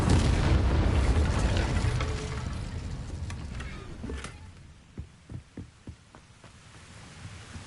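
An Incendio fire spell cast in the video game Hogwarts Legacy bursts as a loud, roaring whoosh that fades over several seconds, followed by a series of dull, thumping pops.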